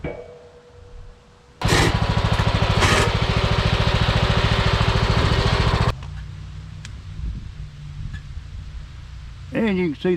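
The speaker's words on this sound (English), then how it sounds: "And you can see the ramps work good on your lawnmower." A lawn mower engine roars loudly and steadily for several seconds as it drives up a set of Pittsburgh auto ramps, then drops to a lower idle, with brief talk at the end.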